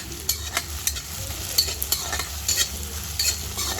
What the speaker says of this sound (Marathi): ते त्याच्यामध्ये घालून घेत आहे आणि ते सुद्धा कांदा टॅमॅटोमध्ये व्यवस्थित असे परतून घेत आहे